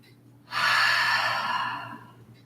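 A single deep yoga breath, heard close and alone, a long airy rush that swells quickly and then slowly fades.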